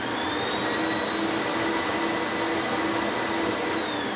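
Aspirtech 3000 central vacuum with two motors running, a steady, even whooshing roar with a faint whine that stays level for the whole few seconds.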